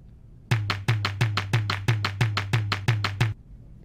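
Two drum sounds in a Scratch song play together as a steady, even beat of about nine sharp hits with a low tonal thump under each, loud and close, with no talking.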